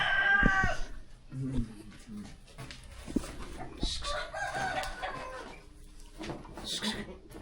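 Chickens cluck and a rooster crows briefly at the start, nearby on a farm, while people talk over the birds.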